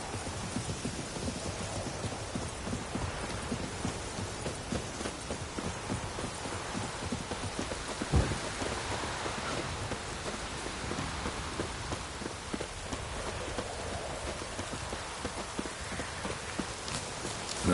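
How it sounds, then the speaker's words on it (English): Steady rain falls in a video game, a constant hiss of drops on surfaces with faint clip-clop hoofbeats underneath, running continuously without speech. "Looks like rain."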